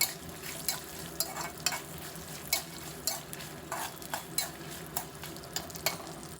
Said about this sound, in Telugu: ఈ పల్లీలు కూడా వేసేసి ఫ్రై చేసుకుందాము నిదానంగా లో ఫ్లేమ్లో వేయించండి